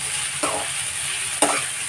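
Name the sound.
bell pepper rings frying and stirred in oil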